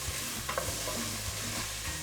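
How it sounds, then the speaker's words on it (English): Onions fry in a pan and get stirred now and then, a steady close sizzle with soft scraping strokes running through it, no talking. "So I'm gonna start throwing my onions into that pan. Okay, and I'm gonna give that a little stir."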